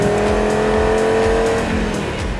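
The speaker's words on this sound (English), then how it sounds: "as you can hear it, the sound, the unique sound of a 5-cylinder engine" A 2018 Audi RS 3 with its turbocharged five-cylinder TFSI engine, at Lime Rock, gives a loud, steady close-up engine drone with a sustained tonal pitch that drops slightly partway through, and no one speaking.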